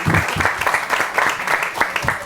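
A live audience applauds at a Danish panel debate on the global water crisis, a dense, steady wash of many hands clapping at close range that holds for a couple of seconds without a break.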